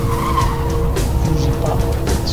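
A car in the video game Street Chaos skids on a punctured tire, a continuous loud scraping squeal over a low engine rumble lasting a couple of seconds.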